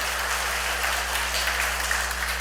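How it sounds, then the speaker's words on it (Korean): A church congregation claps together in a steady, dense burst of applause that holds evenly throughout, with no voices over it. "우리 기쁘니까 하나님께 영광의 박수"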